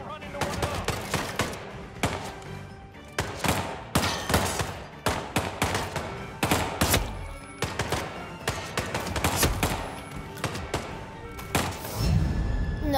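Gunfire crackles in Hitman 3 gameplay as repeated sharp shots and short bursts come in irregular clusters, fairly close and punchy, with a low rumble near the end.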